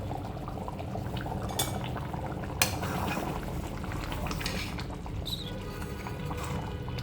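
A lid comes off a pot of chole masala, a chickpea curry, simmering on the stove, with steady bubbling and clinks of metal cookware and a sharp clatter near the middle, heard with no voices.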